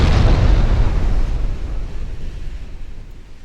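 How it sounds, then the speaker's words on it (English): Battleship exploding in the naval game Ultimate Admiral Dreadnoughts, a loud deep booming blast that rumbles and slowly fades away. "Should probably look at the battleship that's getting blown up"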